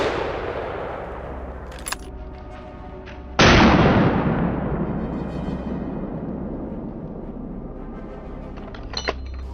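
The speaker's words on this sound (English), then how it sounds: "The gunshot cracked through the still morning air." A single loud rifle gunshot cracks out sharply in still morning air during a wild boar hunt, its boom rolling and decaying over several seconds, with faint clicks and rattles around it.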